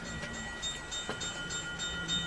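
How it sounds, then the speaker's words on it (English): A model train running steadily on a layout, a low continuous rumble with faint rhythmic clicking and a thin high whine, close by and fairly quiet. "I'll bring a train through one more time as we film that."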